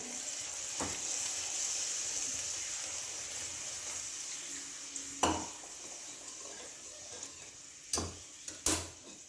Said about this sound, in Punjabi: ਲਗਾਤਾਰ ਸਪੈਚੂਲਾ ਨੂੰ ਹਿਲਾਉਂਦੇ ਰਵਾਂਗੇ ਜਦੋਂ ਤੱਕ ਇਹਦੇ ਵਿੱਚ ਉਬਾਲ ਨਹੀਂ ਆ ਜਾਂਦਾ